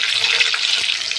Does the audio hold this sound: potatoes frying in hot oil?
yes